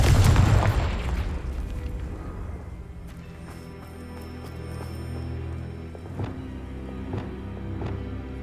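A Confringo blasting spell bursts with a loud boom in Hogwarts Legacy, its heavy low rumble fading into a lingering roar, followed by scattered crackles and smaller pops from the fight.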